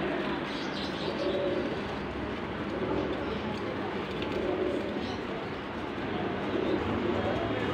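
Teddy pigeons in Lahore coo softly and repeatedly among a steady bed of background noise, with faint voices mixed in.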